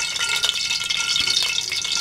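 Onions hiss and crackle in hot oil in a kadhai on a stove, giving a steady, bright sizzle that runs unbroken throughout, close and fairly loud, with no voices.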